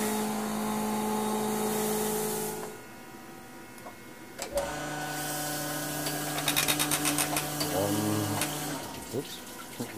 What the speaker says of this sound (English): now what we'll do is come back and finish that with our plateau brushes, and then that cylinder will be all done